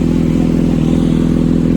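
A modified superbike at a bike meet rumbles loudly and steadily nearby, its deep idling engine throbbing with a constant low pulse and a faint mechanical clatter throughout.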